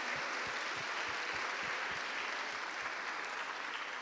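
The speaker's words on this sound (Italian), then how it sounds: "facciamo un applauso a tutti" Sustained audience applause at an evening song contest for liturgical chants in Italy, a dense steady clatter of many hands with some sharper individual claps, continuous through the clip with no talk over it.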